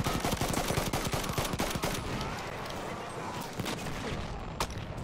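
Battlefield 1 combat erupts in dense, rapid machine-gun bursts and scattered gunshots with heavy booms, loud and chaotic at first, then thinning to sporadic distant shots and a single sharp report near the end.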